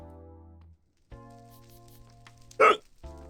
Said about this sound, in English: the hiccups are worsening somehow